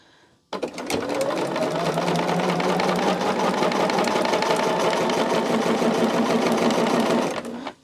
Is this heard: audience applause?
no